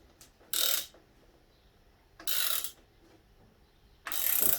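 Three bursts of clicking from a socket ratchet tightening a motorcycle mudguard clamp in a workshop, each lasting about half a second with brief pauses between them, close and clear over a quiet room.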